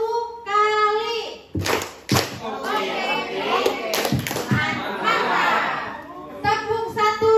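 A primary-school class in Tanggamus, Lampung claps a counted pattern on cue: sharp groups of claps break between stretches of children's chatter and a teacher's voice giving instructions.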